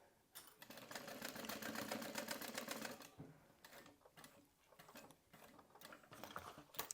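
A sewing machine back stitches reinforcement over the pleats of a rolltop backpack, a fast steady rattling run that pauses briefly and resumes in shorter bursts, close and alone.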